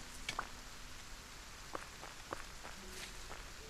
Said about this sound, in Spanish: A pesar de que está lloviendo,